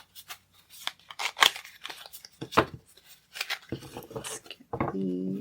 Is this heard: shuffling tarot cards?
yes